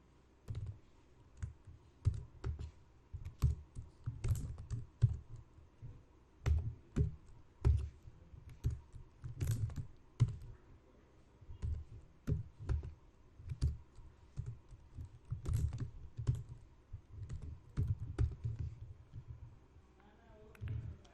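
Python code being typed on a computer keyboard during a training session: irregular bursts of key clicks over about twenty seconds, fairly close, with a little background speech.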